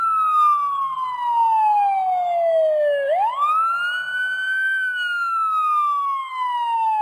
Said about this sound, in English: In the distance they heard a siren.